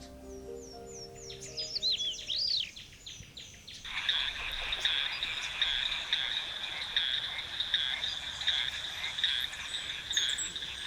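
A chorus of frogs in Madagascar calls in steady, pulsing croaks and trills, with a few birds chirping in the background at the start.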